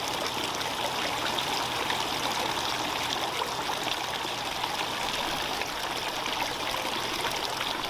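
Water trickles steadily through a tiered garden fountain, a continuous bright splashing and babbling flow that stays even and close throughout, with no voices.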